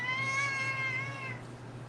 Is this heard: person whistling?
no